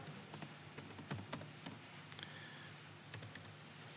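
Typing on a computer keyboard: a quiet, close run of light key clicks in uneven bursts, a few louder taps near the end, with no talking.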